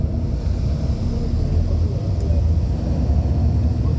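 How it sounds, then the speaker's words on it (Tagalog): Steady, loud low rumble of strong wind buffeting a microphone in a wooded area in Ipoh, Malaysia, continuous and roaring throughout without letup. "Lakas ng hangin."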